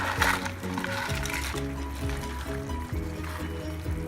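Crab goes into boiling masala water for spicy crab curry, a loud continuous bubbling, splashing wash close by, faint voice underneath.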